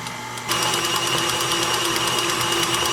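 An electric stand mixer with a whisk attachment beats buttercream made with vanilla extract and whole milk, starting abruptly as a loud steady motor whir with a rhythmic ticking whisk pulse that holds alone throughout.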